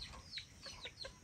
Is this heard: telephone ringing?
no